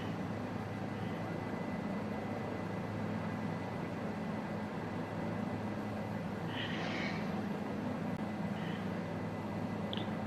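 A Bell 407 helicopter in Microsoft Flight Simulator 2020, flying over Havana, Cuba, gives a steady, droning rotor and turbine hum that holds constant and fairly loud, with a faint brief chirp near the middle.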